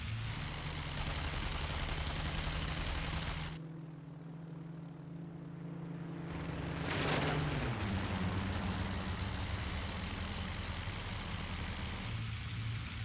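Twelve wing-mounted .303 machine guns fire from a Hurricane in the flight game IL-2 Great Battles, long dense rattling bursts over a steady droning aircraft engine, pausing briefly and resuming.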